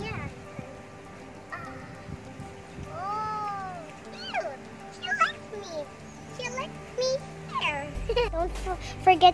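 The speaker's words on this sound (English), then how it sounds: "This is my cat Chimio, and she loves me." A pet cat meows several times in a home setting, short rising and falling calls that come and go while someone talks nearby.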